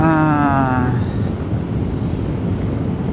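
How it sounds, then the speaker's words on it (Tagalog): Loud, steady wind buffets the microphone in a constant rumbling roar at a Dingalan viewpoint, after a brief voice at the start. "ang lakas na hangin."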